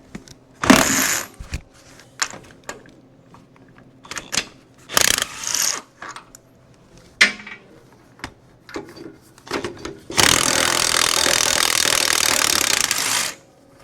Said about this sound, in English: me change sockets and we'll get those ones out.